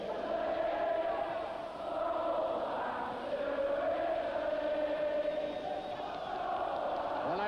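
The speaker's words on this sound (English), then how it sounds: "And now the crowd singing, "Go back to Italy."" A football crowd at a Liverpool European match sings a chant to the tune of Santa Lucia, a massed, sustained roar of voices that swells and dips, heard from a distance with faint commentary underneath.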